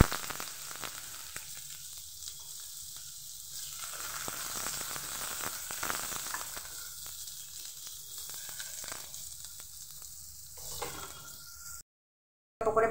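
Chopped onion, carrot and capsicum fry in hot oil with a bright, constant sizzle that swells and thins as the pan is stirred, close and without talk, before dropping to silence near the end.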